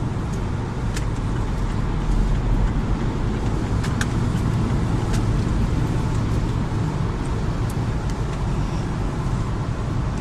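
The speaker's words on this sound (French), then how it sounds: "je vais essayer de faire une accélération" Chevrolet Captiva 2-litre TDi diesel, remapped from 150 to 190 hp, accelerating hard with a continuous loud low engine and road roar heard from inside, steady for about ten seconds.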